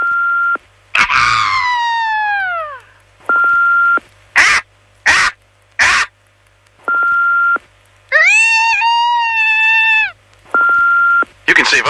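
Several people take turns imitating a bald eagle call with their voices, producing loud descending then rising shrieking whistles, separated by repeated electronic beeps and short bursts, for a radio promotion.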